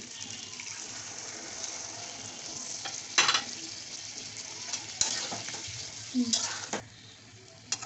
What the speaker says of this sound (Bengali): এখন এভাবে দুধ দিয়ে দিলাম